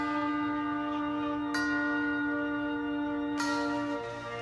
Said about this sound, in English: Love the tubular bells.